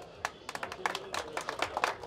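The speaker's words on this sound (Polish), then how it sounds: "Jeszcze raz wielkie brawa dla pana Romka." Audience applause at a fan meet-up at an agricultural trade show, sparse individual claps building into a loose, uneven patter amid background murmur.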